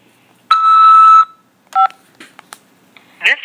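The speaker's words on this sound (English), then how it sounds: "press 5 to accept this call" A single long electronic telephone keypad tone as 5 is pressed to accept a call from a jail, followed a moment later by a shorter beep and a few faint clicks, then a brief rising chirp.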